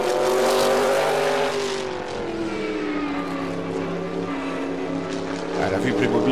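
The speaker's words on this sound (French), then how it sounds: "Oh, le bruit de ce V8, un biturbo." A Sauber C9 Group C race car with a biturbo V8, driven in Assetto Corsa, roars loudly and continuously, its pitch falling through an upshift and then holding a steady high drone, with a voice talking over it.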